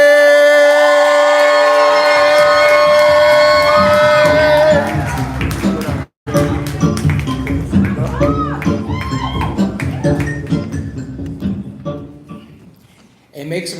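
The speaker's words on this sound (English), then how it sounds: "We're clapping, we're building energy, we making all the noise for Joan" An audience at a poetry open mic claps and cheers, a dense burst of applause and whoops that rises and then thins out. A loud siren-like whistle or tone rings over the first few seconds.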